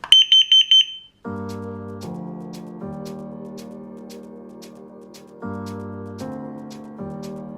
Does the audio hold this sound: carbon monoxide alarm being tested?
yes